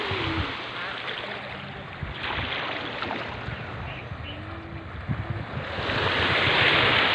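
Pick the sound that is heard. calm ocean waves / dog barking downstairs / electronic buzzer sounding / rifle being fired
calm ocean waves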